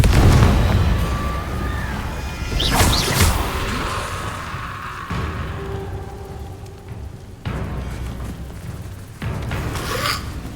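Fire and blast spells, Incendio and Confringo, cast in the video game Hogwarts Legacy, producing loud whooshing bursts and explosive impacts in quick succession with crackling tails and no talking.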